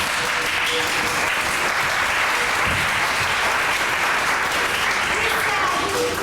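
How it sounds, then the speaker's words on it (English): A castle crowd applauds court dancers, a full, steady wash of many hands clapping at even loudness throughout, with a voice faintly beneath it. "They curtsied to the Queen, and everyone in the castle applauded."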